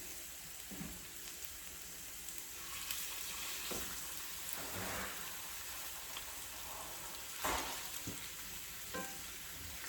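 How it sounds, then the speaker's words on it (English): Steady sizzling and crackling of stuffed chicken breasts frying in a hot pan, with occasional louder pops and spatters over the constant hiss. "And you want to make sure it's sizzling."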